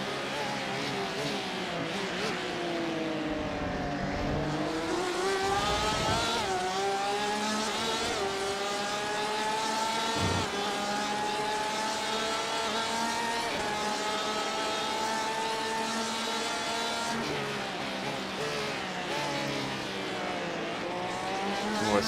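Race cars circling Spa in a sim racing video game, engines whining loudly and continuously as they rise and fall through gear changes and braking, with a commentator talking over them.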